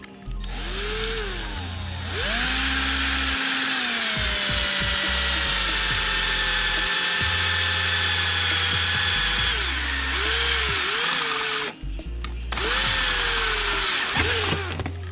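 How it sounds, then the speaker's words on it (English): A power drill whines loudly while drilling into a snowmobile part, running in long bursts with its pitch rising and falling, stopping briefly twice before spinning up again. "I'm gonna just drill"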